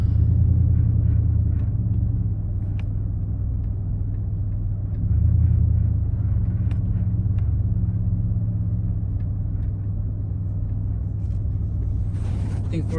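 A Chevrolet Silverado SS idles after a cold start with a deep, steady low rumble that swells slightly at times, recorded close with brief voices near the end.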